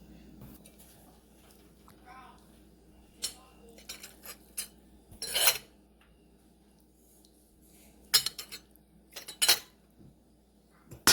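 A spoon scrapes and clinks against glass canning jars as shredded cabbage is portioned in, a few sharp clatters and taps spread through quiet stretches, close by and moderately loud.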